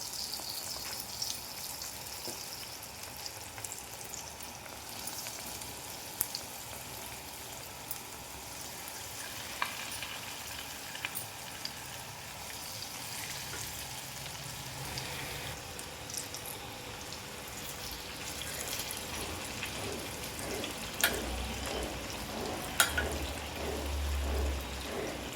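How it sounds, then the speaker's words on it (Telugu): Spoonfuls of moong dal batter for pesara punugulu fritters deep fry in hot oil, giving a steady, soft, crackling sizzle with scattered pops throughout, close but fairly quiet and without voices. "కలిపి పెట్టుకున్న ఈ పిండిని డీప్ ఫ్రైకి ఆయిల్ పెట్టుకుని ఆయిల్ వేడైన తర్వాత ఒక్కొక్కటిగా వేసుకోవాలండి"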